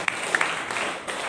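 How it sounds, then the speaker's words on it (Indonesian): Church congregation applauding, a short burst of dense clapping from a crowd filling a reverberant hall, steady and moderately loud throughout. "Tepuk tangan yang paling meriah buat Tuhan Yesus."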